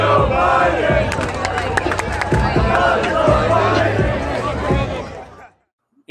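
A large crowd at a political rally chants a rhythmic slogan in unison, loud and dense with shouting voices throughout, cutting off abruptly near the end.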